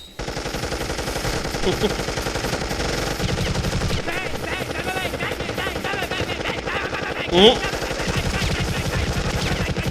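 Rapid machine-gun fire in an animated Deadpool versus Deathstroke fight, sustained rattling bursts over a droning helicopter-like hum, with a brief sharp ricochet whine.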